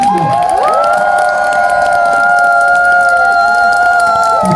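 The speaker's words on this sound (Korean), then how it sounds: "박수하고 환호사 한번 치십시오" Festival crowd at an outdoor folk play cheers and shouts, with sustained whoops and a tonal wail carrying steadily over the noisy mass of voices throughout.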